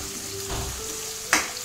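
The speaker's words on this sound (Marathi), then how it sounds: "त्यामध्ये मी कांदा घालते बारीक चिरलेला, हिरवी मिरची बारीक चिरून घालते" Finely chopped onion and green chilli hit a hot pan and fry with a soft, steady sizzle, with a louder clatter near the end as they are stirred in.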